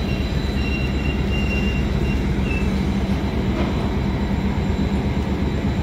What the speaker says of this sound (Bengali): 12278 আমাদের পুরী প্ল্যাটফর্ম ছাড়ছে।